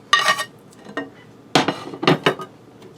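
Potato chunks go into beef broth in a skillet, several loud close clattering knocks and clinks of utensil on pan in short bursts, with quiet pauses between.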